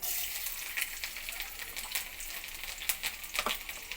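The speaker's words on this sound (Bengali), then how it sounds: "তেলটা গরম হয়ে গেছে তেলের মধ্যে দিয়ে দেবো রসুন কুচি" Chopped garlic dropped into hot oil in a kadai, a bright continuous crackling sizzle with scattered pops and spits, close and fairly quiet, no voices.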